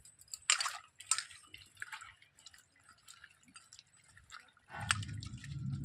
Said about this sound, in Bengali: এরপর আমি জল দিয়ে ভালো করে ধুয়ে দিচ্ছি।